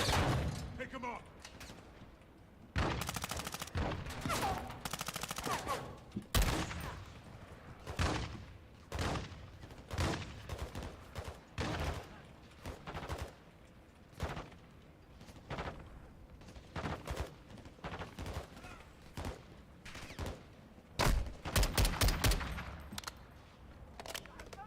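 Gunfire in a Call of Duty game arrives in repeated bursts and rapid volleys, some dense automatic strings and some single cracks, spread unevenly across the whole stretch at moderate loudness.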